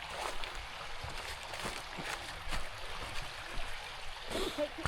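Creek stream flowing beside a forest trail in the Pine Log Creek Trail System, Bartow County, Georgia, gives a steady, broad watery rush, with scattered thumps and a brief voice toward the end.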